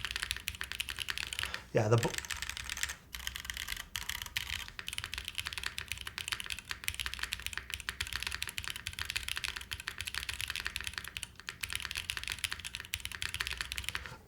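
Fast, steady typing on a spring-mounted computer keyboard fitted with gaskets, soft clacky keystrokes up close, with a brief spoken word and a thump near the start.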